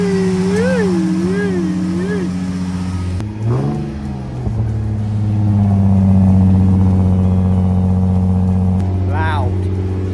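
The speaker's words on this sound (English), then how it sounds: "make sure the engine starts" A Nissan 350Z with a repaired intake cranks and starts, then revs in several rising and falling sweeps before settling into a loud, rough idle nearby.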